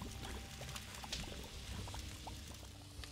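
Water poured into a pot in the adventure game Ankh 2, a soft, faint splashing trickle with light patter over a murky background.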